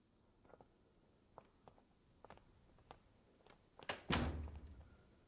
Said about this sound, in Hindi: दरवाजा खोल देती हूँ।